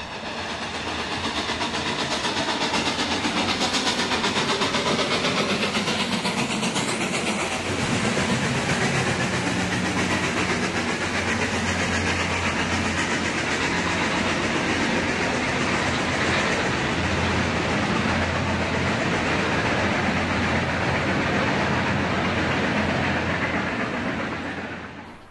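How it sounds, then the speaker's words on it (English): Santa Fe 3751 steam locomotive rolls by with a continuous heavy rumble and roar that stays loud for the whole span before fading out at the end; no voices. "3751 is now underway, steaming toward Railroad Days in San Bernardino"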